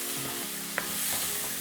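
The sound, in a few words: lamb being stirred and sizzling in a hot pan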